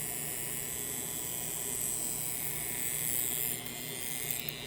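A Yilong F3 wireless adjustable-stroke tattoo pen machine runs with a steady high-pitched electric buzz and hum, close and continuous, dipping slightly near the end.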